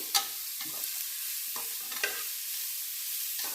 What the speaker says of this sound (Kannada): ಈ ಥರ ಚೆನ್ನಾಗಿ ಈರುಳ್ಳಿ ಚೆನ್ನಾಗಿ ಮೆತ್ತಗಾಗಬೇಕು ಅಲ್ಲಿವರೆಗೂ ಹುರ್ಕೋಬೇಕು